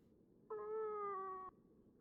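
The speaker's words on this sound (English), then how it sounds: "It's the same cat from before." A single drawn-out cat meow in the video game Fragile Dreams, clear and tonal, lasting about a second against a quiet background.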